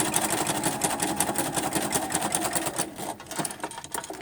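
A sewing machine running a three-step zigzag stitch, with a fast, steady mechanical rattle close by that slows and softens slightly toward the end.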